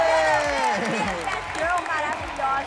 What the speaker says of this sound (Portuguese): Palmas pra Laura!